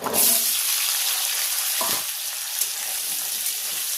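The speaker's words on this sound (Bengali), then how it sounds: "যে আলুটা কেটে রেখেছিলাম এই আলুটা দিয়ে ভেজে নেব" Cut potatoes fry in hot oil in a wok, a loud, even sizzle with a brief stir or clatter partway through, close and alone with no voices.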